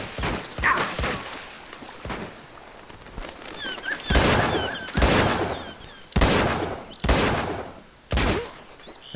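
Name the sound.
gunfire in the video game Uncharted 2: Among Thieves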